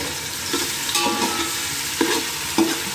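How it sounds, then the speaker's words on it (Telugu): Masala for a Godavari-style fish curry fries in a pan, a close steady sizzle punctuated by a few sharp scraping spoon strokes as it is stirred. "ఇప్పుడు మసాలా వేయాలి. కొంచెం బాగా మసాలా వేయాలి."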